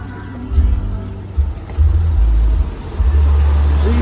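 Engine of a 2005 Dodge Ram 1500 SLT 4x4 pickup idling after camshaft and crankshaft sensor replacement, a close, steady low rumble with a few louder surges.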